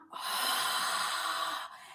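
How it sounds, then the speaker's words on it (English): A single forceful exhale during a dragon breath exercise, a long breathy rush of air pushed out through the mouth, steady and close, easing off near the end. "and then you're holding it and you're breathing out."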